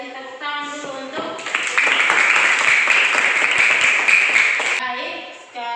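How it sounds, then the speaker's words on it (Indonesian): A classroom group claps together after a group presentation, a dense burst of applause that swells and then fades, with a voice speaking before and after. "Kasih tepuk tangan dulu untuk"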